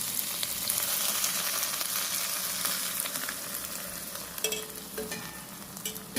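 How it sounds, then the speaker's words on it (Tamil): Goat blood fries with ginger-garlic paste in a pan while being stirred, a close, steady sizzle broken near the end by scraping stirring strokes, with no voices. "இப்போ வந்து கைவிடாமல் கிளறிக்கிட்டே இருக்கணும்."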